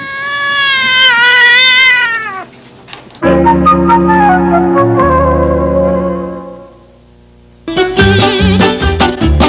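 A leopard cat lets out a long, wavering meow for about two seconds, followed by a stretch of orchestral music. The cat is close and prominent, and no one speaks.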